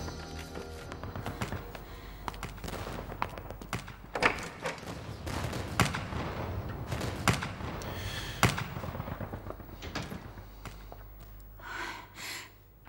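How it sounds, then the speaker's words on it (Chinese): Gunfire rings out outside during a period drama set in early post-liberation China, with a dense run of sharp, loud bangs and cracks at irregular intervals that thin out toward the end. "荣贵呀，你听这外面，枪声跟吵都一样"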